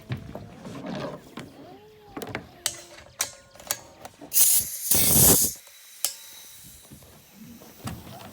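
A pneumatic nail gun connects to an air hose on a garage door header build, with clicks and metallic handling sounds, then a loud burst of air hiss, followed by more scattered clicks.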